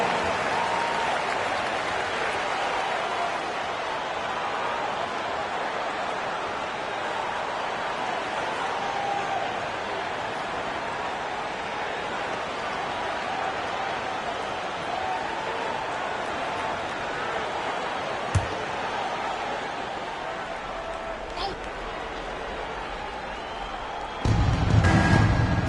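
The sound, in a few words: crowd applause in NBA 2K video game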